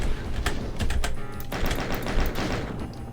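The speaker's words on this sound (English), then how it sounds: "someone keeps dealing with those bloody chain gunners" Chaingunner machine-gun fire in Doom, with fast, sharp rattling bursts of shots close by, stopping for a moment before the clattering resumes.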